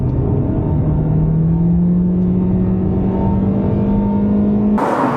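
Loud, steady drone of a 2024 Toyota Corolla Hatchback engine straining as it accelerates onto a freeway, pitch climbing gradually under heavy road and cabin rumble, ending in an abrupt burst of noise; no voices.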